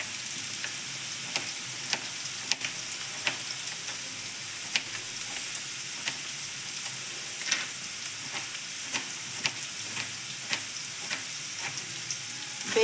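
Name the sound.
onions frying in a pan for mushroom palya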